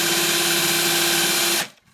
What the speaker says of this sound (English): keep the Forstner bit centered on the hole